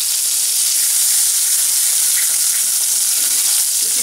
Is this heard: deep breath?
no